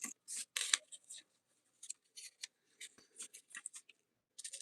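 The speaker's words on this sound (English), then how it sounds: "So I'm going to cut this on this line" Scissors snip paper along a line in short bursts of crisp cuts, several quick snips in a row with pauses between, close and fairly quiet, with no talking.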